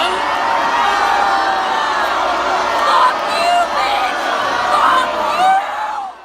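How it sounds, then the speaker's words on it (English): A large concert crowd roars with sustained, overlapping voices, yells and whoops that rise and fall in loud waves, close and continuous throughout. "Audible boos from the crowd began as soon as the white girl said it once"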